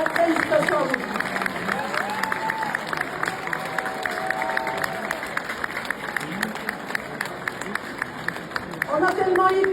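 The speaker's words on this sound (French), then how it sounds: "Vous pouvez recevoir tous les applaudissements" Scattered applause and crowd chatter at an outdoor ceremony renaming a lycée in Sarlat, with sporadic claps and talk continuing through, fairly soft.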